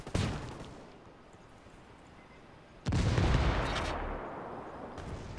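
Bursts of gunfire and explosions in a video game firefight: a sharp loud blast at the start, a lull of lower rumble, then a heavy sustained barrage of shots and booms near the end.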